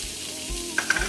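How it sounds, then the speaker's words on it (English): Conecuh sausage and red onion sauté in a hot pan, a close, steady sizzle with a few light stirring clicks over roughly a second. "Now we're going to saute the Conecuh sausage with red onion"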